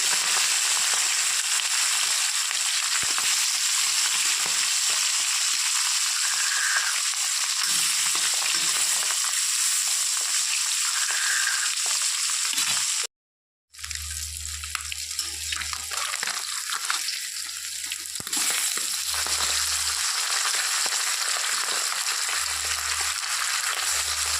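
Fish fries in hot oil in a wok on a gas stove, giving a steady, loud sizzle that drops out briefly partway through, then resumes with a low rumbling hum underneath.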